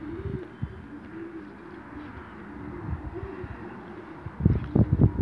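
Racing pigeons coo at their loft, soft low rolling calls repeating through the clip over faint wind, growing louder and more insistent near the end.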